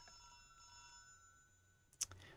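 A pay phone in the video game Welcome to the Karoshi Club rings with a faint, steady electronic tone that ends in a sharp burst.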